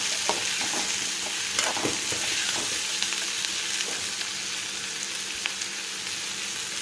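Onions sautéing in oil with salt for a soya chunk fry, a steady close sizzle broken by soft scraping stirs of a spoon in the pan, no talk.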